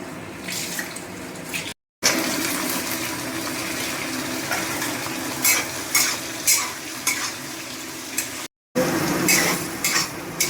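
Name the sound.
ginger garlic onion paste frying and stirring in pan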